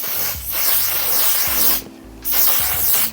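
Makeup setting spray is misted onto a face in two long, close, hissing sprays with a brief pause between them and soft clicks at the nozzle.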